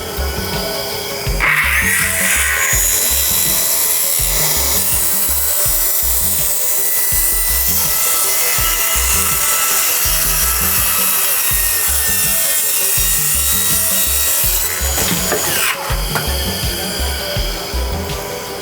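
A Bosch Profactor cordless saw cuts through wood in a long continuous pass, loud and close, with a steady rasping, rhythmic blade stroke and a brief shift in tone near the end.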